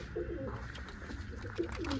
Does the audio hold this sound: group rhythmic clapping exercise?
no